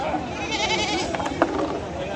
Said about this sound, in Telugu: మేకలు అయితే బ్రహ్మాండంగా వచ్చినాయి ఫ్రెండ్స్